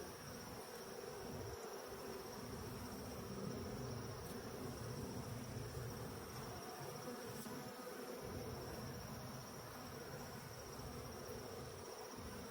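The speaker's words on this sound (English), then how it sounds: "Bunch of fidgety bees." Restless honey bees in an opened hive give off a continuous, even droning buzz up close, unbroken throughout and free of speech.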